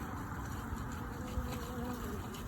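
Honey bees buzz steadily at an apiary hive check, a faint continuous drone of many insects close by, with no talk.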